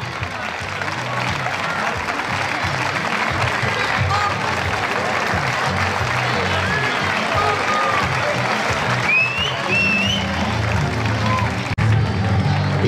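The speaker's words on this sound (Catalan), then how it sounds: "Seguim aplaudint una mica, que no ens costi" Crowd applause and cheering for a cadet sports team at a club team presentation and veterans' tribute, loud and continuous throughout, with voices and whistles mixed into the clapping.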